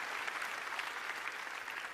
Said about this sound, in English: give the Lord a hand clap right there